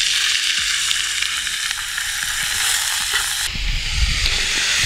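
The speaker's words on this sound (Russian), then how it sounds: "Ну вот мы закинули наш фарш и обжариваем" Minced meat frying in hot oil in a kazan over a campfire for navy-style macaroni, a loud dense crackling sizzle throughout, shifting to a lower, rougher hiss with crackle near the end.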